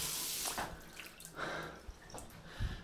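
Water from a hotel resort bathroom shower spraying and splashing onto a flooded floor, a steady rushing wash with uneven bursts and a few louder splatters, heard close with no voices.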